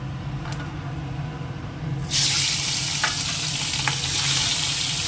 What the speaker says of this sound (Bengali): একটা একটা করে ভাজবো না একবারেই ভাজবো